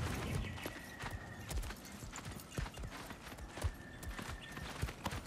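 In the video game God of War Ragnarok, a horse's hooves clip-clop in a steady walking rhythm, fairly soft, with faint ambient game sound around them.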